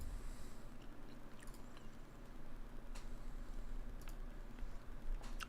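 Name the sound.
chewing gum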